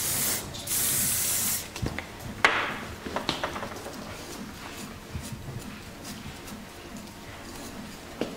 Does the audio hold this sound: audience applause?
no